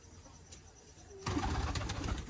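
Pigeons at a rooftop loft give low cooing calls close by, starting quiet and then swelling into a louder, busier stretch of coos and rustling.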